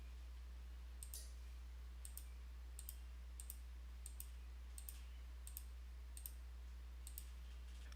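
A computer mouse clicks faintly and evenly, about once every second, while zones are hand drawn on a map in an admin dashboard, over a steady low electrical hum with no talk.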